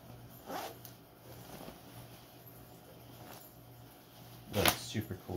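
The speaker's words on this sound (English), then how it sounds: "The zipper." A zipper on a softshell waterproof ripstop tactical jacket is pulled in one quick, close zip near the end, after a quiet stretch with faint handling rustle.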